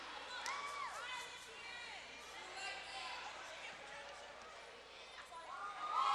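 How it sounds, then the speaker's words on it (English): Home crowd at a college basketball game in the Lusinger gym: a faint, distant murmur of spectators with scattered cheers and squeaks, running steadily under talk. "Some of the Lusinger home crowd."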